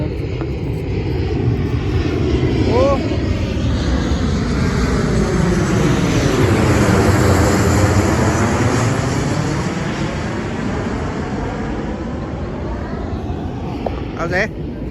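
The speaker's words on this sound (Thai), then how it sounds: "โอ้เสียงเครื่องบิน" An airplane passes overhead with a loud, steady engine roar that swells and shifts in pitch as it goes by. A voice speaks briefly beneath the noise.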